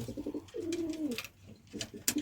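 Several pigeons, part of a loft of about 25 to 30 birds kept in pairs, coo in soft repeated rolling bursts close by, with a longer drawn-out coo in the middle.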